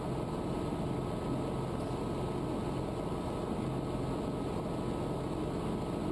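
A Cabri G2 helicopter idles on the grass before lift-off, its engine and rotor giving a steady, loud broadband drone with a low rumble that holds constant throughout, with no talk over it.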